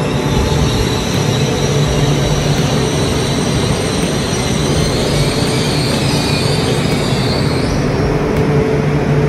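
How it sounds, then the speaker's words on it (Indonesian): Inside a passenger train car, a continuous loud rumble of the moving carriage fills the cabin, with a steady low hum and faint high wheel squeal drifting in and out. "Saya di kereta nomor 2 ya naiknya."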